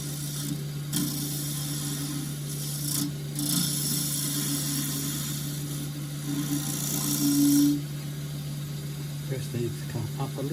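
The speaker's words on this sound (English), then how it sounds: "So, in with a little scraper." A small scraper rubs against a tiny boxwood bowl spinning on a lathe, giving a steady scraping rasp over the machine's constant hum, with brief surges of cutting noise; someone speaks over it.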